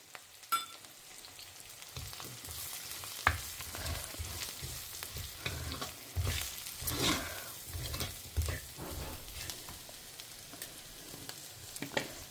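Steady frying sizzle with intermittent stirring scrapes and clatters of a utensil against a pan, close by, no voices.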